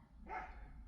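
A small dog yaps once, a short sharp bark heard at some distance indoors, fairly quiet over a low steady background hum.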